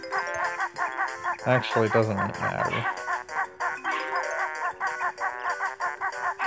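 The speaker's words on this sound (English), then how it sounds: "Sorry if you hear the dogs barking in the background there." Several dogs bark in the background while someone talks over them, the barks partly buried under his voice.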